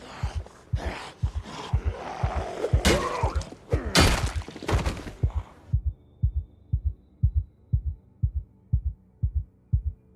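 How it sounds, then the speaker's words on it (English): Thumping heartbeat effect in the Project Zomboid video game, a steady double-thud pulse heard throughout, first under a loud rumbling burst of game noise and then alone and clear for the last few seconds. "Mad heartbeats."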